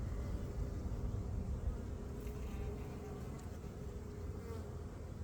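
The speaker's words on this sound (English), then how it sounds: "I just don't have many bees." A dense, steady hum of many bees buzzing together, continuous and close, with a faint low rumble underneath.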